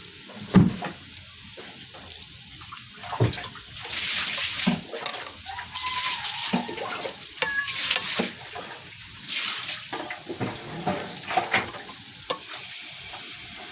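Longganisa sausage frying in reddish oil in a home kitchen, a steady close sizzle with crackling bursts and occasional stirring scrapes running throughout, with faint animal sounds in the background.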